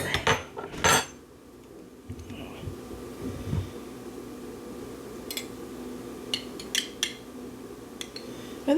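A metal spoon clinks against a jar and dish while scooping Prego pizzeria-style pizza sauce, with a few loud knocks at the start and scattered bright taps later, amid quiet kitchen room tone.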